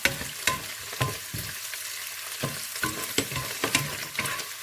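Carrots being stir-fried in a hot pan for seafood fried rice: a steady sizzle punctuated by repeated scraping and clacking strokes of a utensil against the pan, close and fairly loud.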